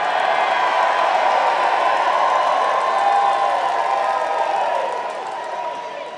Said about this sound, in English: Always good to hear that you're now cheering for Liz